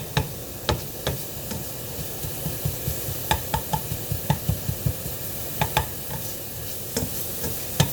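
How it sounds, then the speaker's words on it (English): Delicata squash sautes in a hot pan with a steady low sizzle, punctuated by regular clicking stirs and scrapes of a utensil at close range, with no talking. "Now it's starting to saute a little bit better."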